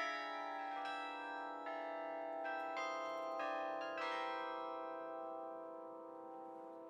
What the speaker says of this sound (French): Ah, ça, c'est un carillon.